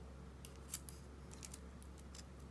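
Scissors snip through folded layers of crepe paper in a few quick, faint cuts close by, against a quiet room hum.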